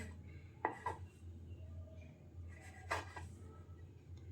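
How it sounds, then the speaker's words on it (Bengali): A kitchen knife trims the crusts off slices of bread, giving a few short, crisp cutting and scraping strokes against a board, the clearest near 0.7 s and 3 s, with quiet room hum between and no talking. "প্রথমে আমি পাউরুটির সাইডগুলো একটা ছুরি দিয়ে কেটে নেব"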